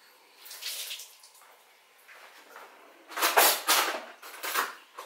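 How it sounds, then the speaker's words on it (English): Tap water running over wet hands at a kitchen sink during sourdough making, a soft splashing stream in two bursts, quieter early then louder near the end, with no talk. "You can just go and run them under the tap so they're all wet"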